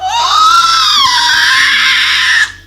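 A person imitates a child's inhaled scream: one sustained, high, strained shriek lasting a couple of seconds, loud and close, then cutting off abruptly.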